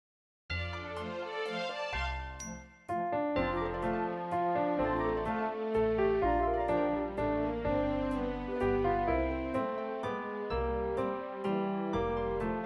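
Orchestral arrangement of a Christmas song, played from a score: a full ensemble of strings, winds and bells with a steady, lilting rhythm and bright chime accents, loud and continuous after a brief opening.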